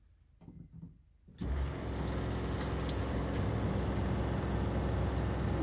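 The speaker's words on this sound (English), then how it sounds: "we're going to have a test of our new shower" Water bursts on after a second of near silence and pours steadily and loudly from a newly built shower in a vintage RV motorhome, running close and unbroken to the end.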